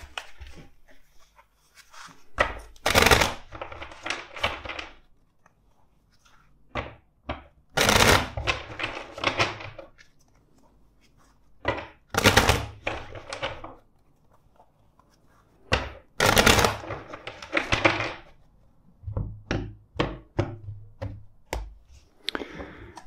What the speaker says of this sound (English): Let's shuffle this deck four times for you.